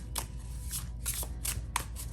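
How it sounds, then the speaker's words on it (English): Tarot cards shuffled in a few quick riffling bursts with brief pauses between them, crisp and close, heard alone without any talking. "I usually like to see people shuffle their cards."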